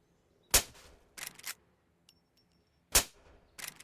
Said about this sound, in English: we did get a suppressor for our weapon here